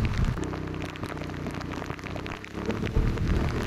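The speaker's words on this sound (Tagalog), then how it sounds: "sumalubong sa atin, lakas ng ulan" Heavy rain pours down on the first school day of a flood, a loud, dense patter of drops hitting surfaces with low rumbling underneath.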